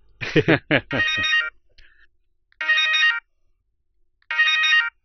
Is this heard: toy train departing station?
no